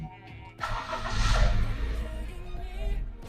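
A manual 2019 Honda Brio E starts up close by: a brief crank catches, then the small engine settles into a steady, slightly rising idle rumble.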